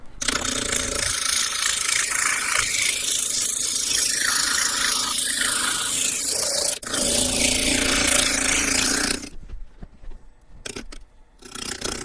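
Walnut bowl turning on a Harvey T-40 wood lathe spun up to about 600 RPM: a loud, continuous broadband whir and rush that runs steadily for most of the stretch, then drops away to quieter, intermittent scraping near the end.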